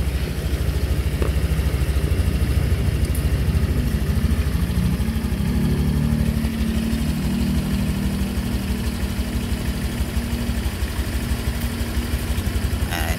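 A motorcycle engine idles steadily at close range with a constant low throb, the idle speed being turned down and back up so the pitch shifts slightly partway through; no talk.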